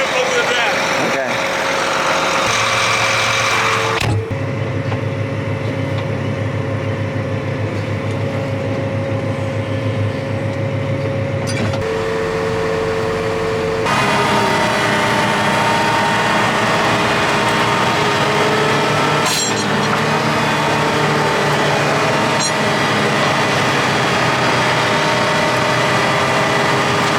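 A four-wheel-drive vehicle's engine hums steadily at close range as it drives across soft ground at the edge of woods, a continuous idle-like drone with shifts in tone, under people talking.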